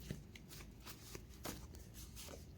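A deck of playing cards being shuffled close up, a quick run of soft riffling flutters and snaps repeating over a few seconds, fairly quiet and without voices.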